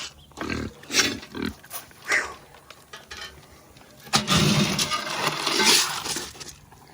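Pigs grunting and snorting in short bursts close by, with louder, busier rustling and squealing activity building in the second half.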